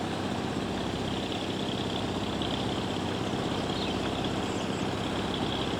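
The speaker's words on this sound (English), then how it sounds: "old George the digger driver's going to turn the pump off in a minute" An engine-driven pump runs beside a river, a steady droning hum with broad mechanical noise that holds constant and fairly close, with no talking.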